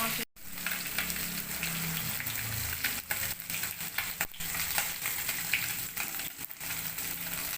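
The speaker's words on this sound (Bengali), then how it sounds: "মাছগুলো ভাজা হয়ে গেছে, তুলে নেব।" Rohu fish pieces fry in hot oil with a steady, close sizzle that runs throughout, broken by a sharp clatter near the start and brief scraping stirs.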